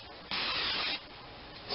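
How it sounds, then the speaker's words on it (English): Nonstick cooking spray hissing onto a casserole dish in a kitchen, one long close burst of about two-thirds of a second followed by a short second spurt, with no talk. "Now we take some nonstick spray and generously"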